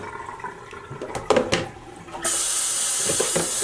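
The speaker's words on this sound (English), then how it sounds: "I'm rinsing the pan to try to get this done as easily as possible" A dye pan from Rit liquid dyeing is rinsed, with scattered clinks and splashes at first, then a tap turns on and water runs in a steady loud rush, close by.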